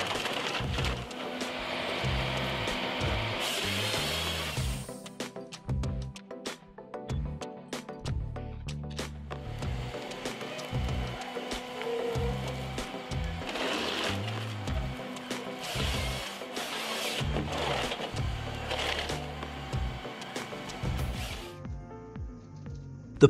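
SPI 661 ELF harvester head mounted on a Rottne A20 processing oak logs in a dense Swedish forest, with repeated rhythmic mechanical feeding and cutting bursts, clattering and whirring, fairly close and moderately loud.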